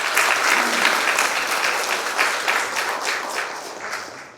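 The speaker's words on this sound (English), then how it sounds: "I want us all to please give Quinton a round of applause" An audience gives a round of applause at a ceremony, a dense sustained burst of many hands clapping that slowly tapers, with no speech over it.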